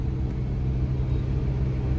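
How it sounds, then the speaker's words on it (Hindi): A car idles or creeps to a stop while parking outside Buho Cafe, a steady low engine rumble heard from inside or close by, with no talk. "ये कमल ने गाड़ी पार्क कर दी है"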